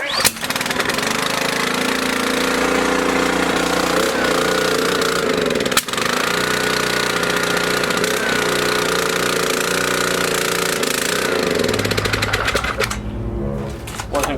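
Small engine in a one-year fuel additive test starts after a late choke and runs steadily, loud and close, with a continuous chugging drone that holds throughout, then changes pitch near the end.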